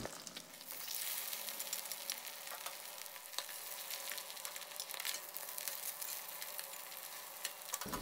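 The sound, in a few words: frying Thai crispy green mussel pancake batter in oil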